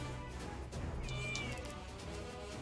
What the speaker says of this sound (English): Got a cat that keeps on walking over here.